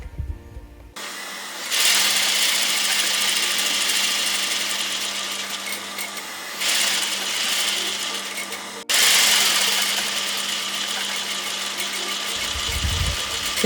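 A sewing machine stitches corset fabric, joining the front and back pieces with lining at the side seam, running loud and close in steady whirring bursts with a brief pause midway, alone with no talk.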